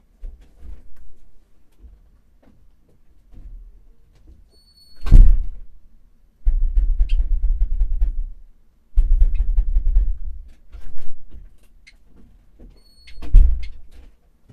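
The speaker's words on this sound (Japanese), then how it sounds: "ちょっとドアガチャガチャやってくるよ。" A house door rattled hard from outside: a sharp clunk, then two sustained bouts of loud rattling and knocking, and another clunk near the end, with quiet gaps between.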